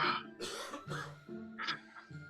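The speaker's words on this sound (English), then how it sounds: "got me all choking, coughed up over here" Several rough, raspy coughs and throat-clearing bursts come in quick succession, close by and fairly loud, with short pauses between them.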